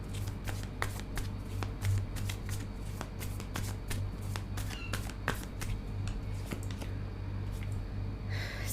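Tarot cards being shuffled by hand in a quiet room, a steady run of crisp riffling snaps and soft flicks, close and fairly quiet, with a low hum underneath and no talking.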